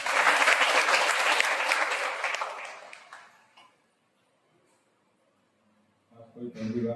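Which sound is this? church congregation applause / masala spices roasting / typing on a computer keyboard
church congregation applause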